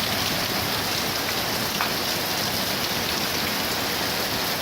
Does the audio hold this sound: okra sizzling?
no